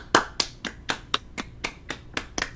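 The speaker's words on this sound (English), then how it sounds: "let's clap it up" Ten sharp, evenly spaced hand claps ring out in a steady rhythm, close and distinct, with no talking over them, like a small group clapping in unison at a fantasy football draft.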